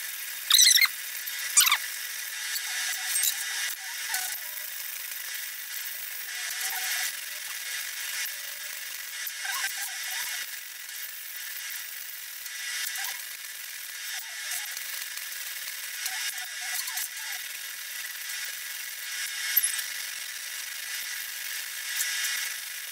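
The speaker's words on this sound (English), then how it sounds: "I'm going to get some acetone and a stainless steel wire brush," A stainless steel wire brush scrubs aluminum scraps, giving a continuous thin, hissing scratch with small squeaks, fairly close and with no talking.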